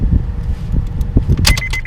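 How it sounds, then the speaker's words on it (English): A relay in a Honda Accord clicks on and off during fog light installation, with sharp faint ticks and jangling over a dense low rumble inside the car. "I still hear the relay there going on and off."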